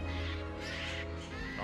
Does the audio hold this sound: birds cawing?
yes